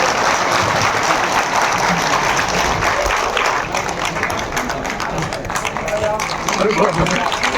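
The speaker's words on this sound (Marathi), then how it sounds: "जोरदार टाळ्या झाल्या पाहिजे सर्वांसाठी" A crowd applauds a guest at a public certificate ceremony, loud, dense clapping that runs for several seconds, dips slightly midway and then swells again.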